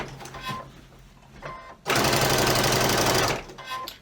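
A sewing machine bastes a baby quilt with long straight stitches. After a couple of faint taps, a loud, rapid mechanical whir runs steadily for about a second and a half, then stops.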